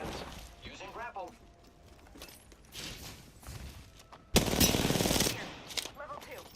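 Rapid automatic gunfire bursts from the Apex Legends battle royale game, a loud dense volley near the end after softer scattered shots, with players talking over the action.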